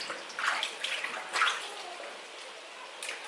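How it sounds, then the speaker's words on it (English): Raw meat being washed in hot water for a Nigerian dinner, with splashing and sloshing water in a bowl, moderately close, in uneven bursts with no talk. "I'm going to wash this, pour away the water, wash it again, pour away the water like 3 times"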